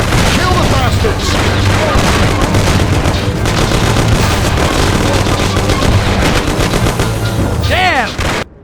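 Rapid, loud gunfire fills a shootout in the Mafia: The City of Lost Heaven video game, with dense overlapping bursts and booming shots that run almost continuously throughout, under shouting voices.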